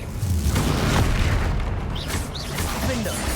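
A Bombarda spell explodes in Hogwarts Legacy with a sustained booming blast and low rumble running through the clip, sparkling magical effects flickering above, over continuous game audio.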